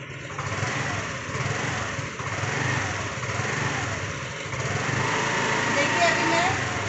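A Honda Activa scooter idles after a self start, its light engine giving a steady, buzzing hum with a voice talking over it.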